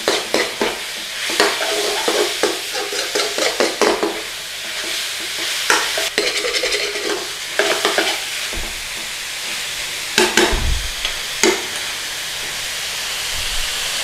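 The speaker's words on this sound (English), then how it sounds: "this is a little bit of finely diced coriander stalk. I'm putting that in now. Get that cooked in there." Finely diced coriander stalk frying in a pan for chicken rogan josh, a constant hissing sizzle with steam and a string of scraping stirs and occasional low knocks against the pan.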